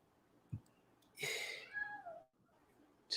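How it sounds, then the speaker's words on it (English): A young kitten, about two months old, gives a drawn-out, descending meow indoors, clear and fairly close, after a soft thump, with a quiet room hum around it. "I wasn't sure if you guys can hear my cat."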